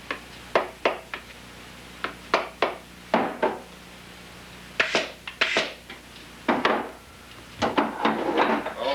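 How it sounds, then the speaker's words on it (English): A hammer taps the leather insole of a boot being lasted. About a dozen sharp, close knocks come in irregular pairs and small groups, with short pauses between them and no talking. "if you just slack up a little bit and tap her with a hammer"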